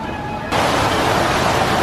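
Rushing water at Disney World on a warm, breezy day, a steady broadband wash that switches on abruptly and holds loud and constant, like a fountain or waterfall close by.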